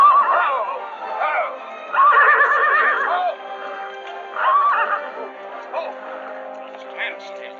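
A horse in a Western cavalry drama neighs in several loud, quavering whinnies at close range, with short pauses between them and faint background hum.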